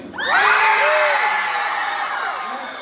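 A high school audience at a Cesar Chavez celebration erupts in loud, sustained screaming and cheering. The many overlapping voices peak early and then slowly fade.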